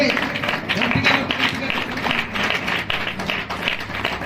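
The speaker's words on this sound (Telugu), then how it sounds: "కొట్టు చప్పట్లు గట్టిగా ప్రభువుకి." A church congregation at a Sunday service claps in a loud, dense, rhythmic burst of applause that runs throughout, with voices mixed in.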